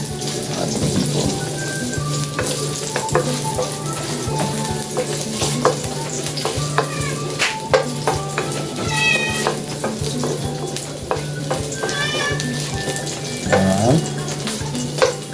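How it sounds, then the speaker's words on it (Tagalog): Onions and shrimp sautéing in a pan for shrimp adobo in coconut milk give a steady close sizzle with stirring scrapes, broken now and then by brief high squeaky tones. "Igisa na natin yung ating sibuyas."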